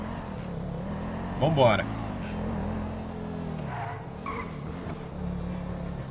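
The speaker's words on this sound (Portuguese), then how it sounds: "carro dos hostis acabou aparecendo bem aqui atrás" A hostile car in a zombie mode of GTA V drives up and skids nearby, with a short tyre squeal over steady engine hum while someone talks over the game sound.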